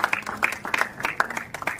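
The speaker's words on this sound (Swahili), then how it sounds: "makofi mazuri kwa Mheshimiwa Governor pamoja na Mheshimiwa Eugene Wamalwa" Audience applause for the Governor and Eugene Wamalwa, scattered hand claps with sharp transients over a crowd murmur, moderately loud throughout.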